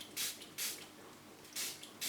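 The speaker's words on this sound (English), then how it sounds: "So I'm just going to give that a spray round to make sure." Hydrogen peroxide sprayed from a hand spray bottle onto the base of an orchid, four short close hissing bursts in an uneven rhythm with quiet gaps between them.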